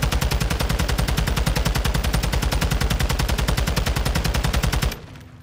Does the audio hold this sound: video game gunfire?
yes